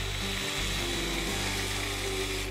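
A power drill bores into a catfish jug line float with a steady, close, high whine that holds constant throughout.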